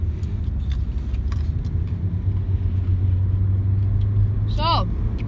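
A car idles and then rolls away from a green light, its low engine rumble steady and close, while a person speaks and makes eating noises over it.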